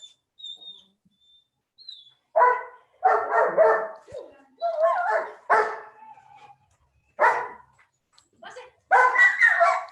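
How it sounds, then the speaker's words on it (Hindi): A pet dog barks repeatedly in bursts, loud and fairly close, with whimpers and yips between the barks and people talking in between. "ये कुत्ता भौंक रहा है यार"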